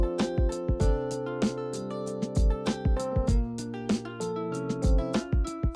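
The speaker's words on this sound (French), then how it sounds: "le son que vous entendez là, c'est le jingle de ma nouvelle série" Short musical jingle for the psychology recommendation series Les Recos Psy de Jeanne, with plucked tonal notes over a steady sustained bed and sharp percussive hits in a bouncy rhythm, clear and alone without any voice.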